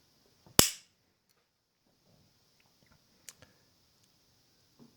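A flintlock gunlock's frizzen snaps shut with one sharp, loud metallic clack near the start, followed by a few faint small clicks later on.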